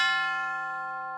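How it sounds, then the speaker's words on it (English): An orchestral chime is struck once, giving a clear, bell-like metallic tone rich in overtones that rings and slowly decays, heard alone and close. "and then he played a chime."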